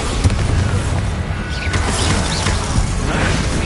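Bombarda blasting spell in Hogwarts Legacy, a loud booming explosion with crashing, rumbling debris and a whooshing tail, sustained for a few seconds with no talk over it.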